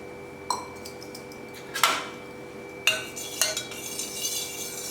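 A spoon clinks against a container as lemon juice is stirred into sugar syrup for homemade lemonade, giving a few separate close metallic taps spaced over a quiet background.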